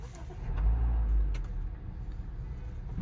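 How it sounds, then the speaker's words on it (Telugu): A 2024 Honda Elevate ZX CVT engine turns over and settles into a low, steady idle hum, a soft rumble that swells briefly and then holds level in the cabin. "ఇప్పుడైతే ఇంజిన్ స్టార్ట్ అయిపోయింది"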